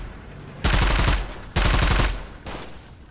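An automatic drum-magazine gun fires in a Roblox shooter game: two loud, rapid bursts of about half a second each, then a shorter, quieter third burst, with no talk.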